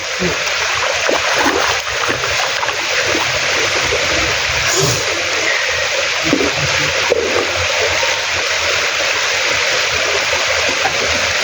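Cannonball dive splashing into a river in the province, a single loud splash within steady rushing stream water, with people's voices faintly heard over the flow.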